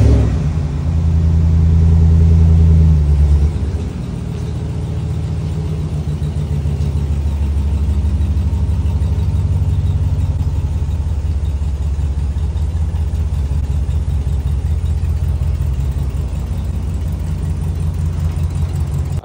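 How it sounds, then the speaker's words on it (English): A big heavy-duty Ram truck engine rumbles loud and close as it pulls out of a garage, with a deep revving surge early on settling into a steady, throaty low idle that continues throughout. "Let me set y'all up while I bring the big duty Ram truck out the garage."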